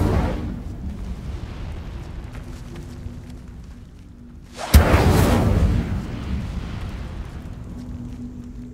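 A fiery Incendio spell blast erupts in the Hogwarts Legacy video game: a sudden loud whoosh and burst around the midpoint, rumbling and crackling as it fades over a steady game soundscape.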